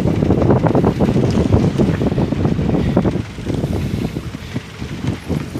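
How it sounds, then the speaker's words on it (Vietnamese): Strong storm wind and driving rain buffet a fishing trawler at sea as a typhoon arrives, a loud, dense, continuous roar with gusting surges that eases slightly partway through, no talk. "Mưa dông tới các bạn ơi."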